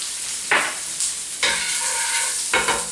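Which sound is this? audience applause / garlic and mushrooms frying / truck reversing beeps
garlic and mushrooms frying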